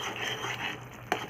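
A spoon stirs malai as it roasts in a pan, giving soft scraping and stirring sounds with a faint sizzle, close and quiet, ending in one sharp clink of metal.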